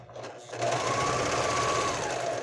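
Domestic home sewing machine straining to stitch through heavy fabric, a steady close mechanical whir starting after a brief quieter moment and running continuously to the end.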